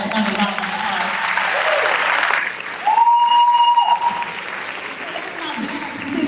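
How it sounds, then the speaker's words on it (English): Audience applause at an eighth-grade commencement for the Class of 2021, dense clapping filling the hall, briefly interrupted by a steady tone around the middle before the clapping carries on. "Let's give our class another round of applause."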